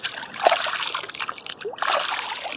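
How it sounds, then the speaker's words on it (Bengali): A large, mud-covered fish weighing several kilos is rinsed by hand in water, producing continuous close splashing, trickling and sloshing with small irregular bursts. "তো আমি তোমাদের জলে ধুয়ে দেখাচ্ছি"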